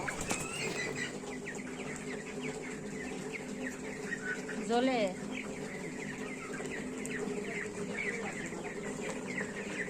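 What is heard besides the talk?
poultry chickens clucking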